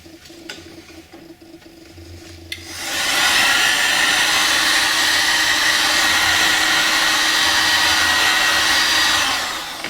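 A heat gun warms vinyl graphics on a 2008 KTM EXC-F dirt bike. It starts after a few quiet seconds with a loud, steady, close blowing whir that holds unbroken to the end.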